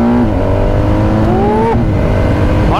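A 2023 BMW R 1250 RT motorcycle with a 130-horsepower engine accelerates hard. The close, loud engine note climbs in pitch through the gears over rushing wind.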